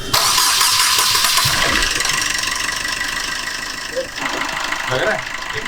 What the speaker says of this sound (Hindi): तो गाड़ी स्टार्ट की